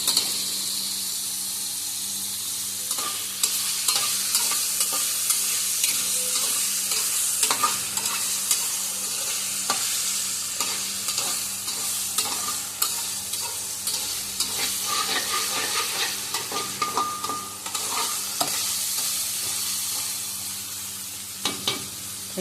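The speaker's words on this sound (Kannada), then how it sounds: "ತಿನ್ನಲಿಕ್ಕೆ ಟೇಸ್ಟ್ ಬರುತ್ತೆ ಅನ್ನುವ ಕಾರಣಕ್ಕಾಗಿ ಫ್ರೈ ಮಾಡ್ತಿದ್ದೀನಿ." Paneer cubes fry and sizzle in a pan for a paneer gravy, a steady hiss broken by frequent scraping, clattering stirs of a spoon against the pan, close and continuous with no talking.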